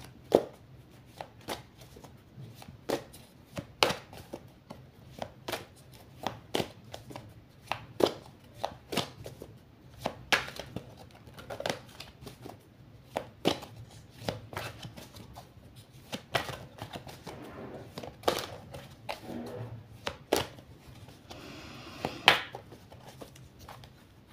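Oracle cards being shuffled by hand, a steady run of soft, crisp riffling taps at a near, quiet level, repeating in short bursts with no talking.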